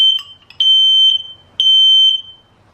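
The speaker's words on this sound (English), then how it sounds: "I don't know why my fire alarm was going off." Home smoke alarm going off with loud, shrill electronic beeps: a couple of short chirps, then two long sustained tones about a second each, separated by a brief gap, alone with no talking.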